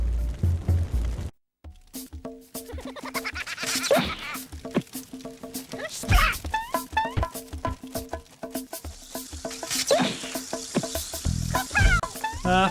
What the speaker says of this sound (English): The water in that cauldron is boiling.